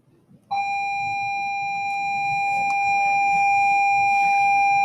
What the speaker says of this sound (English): Gotta love the bells still going on.